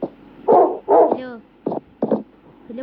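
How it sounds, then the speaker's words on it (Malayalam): A puppy in the Minecraft video game gives a few short barks and yips, close and clear, in quick bursts separated by brief silences. "പട്ടിക്കുട്ട"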